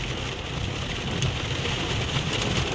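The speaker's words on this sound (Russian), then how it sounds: "Дождь пошел. Прям такой, с бульбами. Сильный." Heavy rain pours down in a steady, dense hiss without a break, loud and close, with no voices heard over it.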